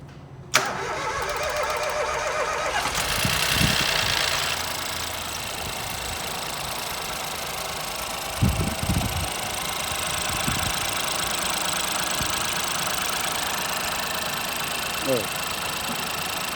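A 2015 Ford 1.0 EcoBoost engine with a wet belt cranks and catches with a sharp start, revs briefly, then settles into a steady idle with a few clicks, while someone speaks nearby.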